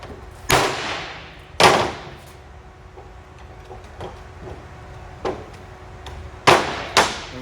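A hammer strikes metal parts on a homemade mega-cab pickup truck, giving sharp, ringing blows at irregular intervals, some spaced a second apart and a close pair near the end, loud and near with no talk.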